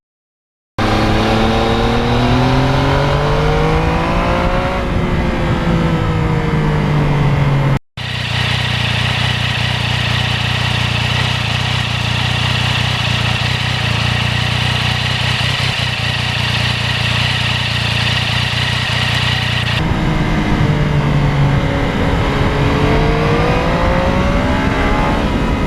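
A 2020 Yamaha MT-09 motorcycle engine revs loud and close while riding, rising and falling through the gears in smooth sweeps, then holding a steady droning cruise before climbing again, with no talk.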